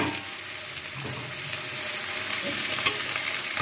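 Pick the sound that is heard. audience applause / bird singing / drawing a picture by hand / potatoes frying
potatoes frying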